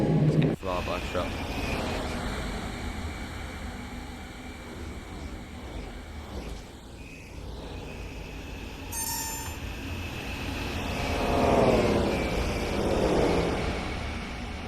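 A DB BR 628 diesel railcar in Train Sim World 4 rolls past on the Maintalbahn, a rumbling approach that swells with a brief horn-like tone, wheel noise and a louder rush as it goes by, with a voice talking over parts.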